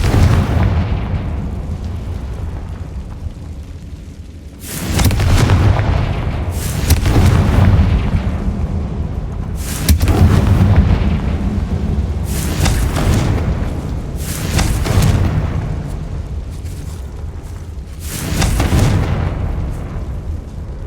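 Confringo blasting curse explosions in Hogwarts Legacy, a series of heavy booming blasts about every two to three seconds, each a loud burst with a rumbling tail, over a low background hum.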